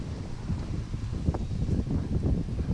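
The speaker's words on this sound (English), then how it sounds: "And it is so windy today." Strong wind buffets the microphone, a continuous low rumbling roar with gusty surges and no other sounds standing out.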